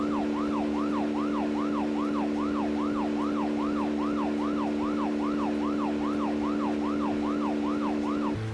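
A police siren in Deadly Premonition wails in a fast, even up-and-down cycle, loud and unbroken for the whole stretch over a steady low engine drone, with no voices.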